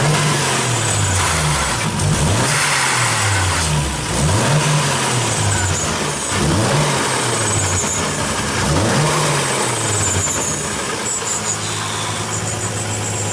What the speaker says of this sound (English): Listen to this turbo now.